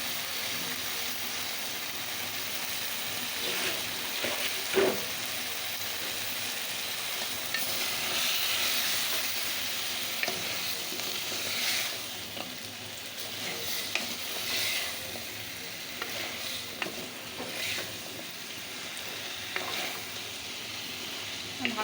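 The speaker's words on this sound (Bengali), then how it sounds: "দিয়ে একটু কষায় নেব, তারপরে ঢেকে দেবো।" Drumstick and potato pieces sauté in a pan for a fish curry, giving a steady broad sizzle with occasional soft scrapes from stirring, continuous and fairly close, with no talk.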